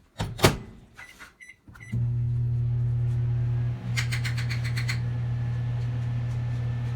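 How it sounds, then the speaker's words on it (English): A kitchen microwave oven starts after a few clicks and beeps of its buttons, then hums with a steady close drone that dips briefly and carries on. "We're nuking it one more time for 30 seconds."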